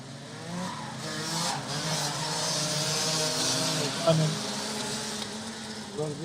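Tillotson T4 racing karts run a warm-up lap at a Latvian karting championship, their engines droning at a moderate distance beneath steady commentary.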